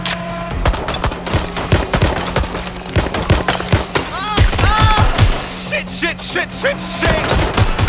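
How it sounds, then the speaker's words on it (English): Gunfire in the Watch Dogs Legion video game, rapid bursts of loud cracking shots with sharp repeated reports and ringing tails, under urgent shouting from a player character. "Taking fire! Reloading."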